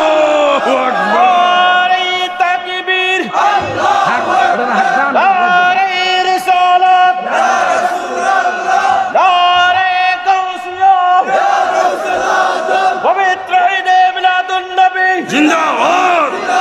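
A large crowd at a religious gathering loudly chanting the takbir, Allahu Akbar, in sustained unison shouts that rise and fall in repeated waves and fill the whole stretch.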